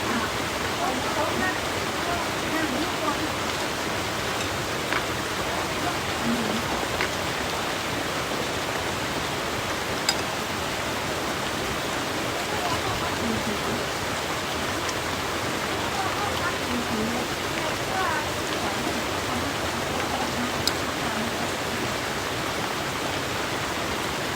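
Steady, even hiss of heavy rain falling continuously, a broad wash of noise without pauses, with occasional faint sharper drops against it.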